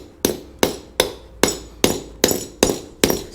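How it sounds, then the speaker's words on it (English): A small hammer knocks off the dust shield on a Honda CR-V / Element rear differential, giving eight sharp metallic taps at a steady, unhurried rhythm, each ringing briefly, close and alone. "It just literally knocks off with a small hammer."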